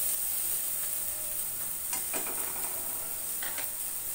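Semolina toasting with turmeric in a pan for pulao gives a steady, quiet sizzle with a bright hiss, broken by a few light scrapes and stirring clicks from a spatula.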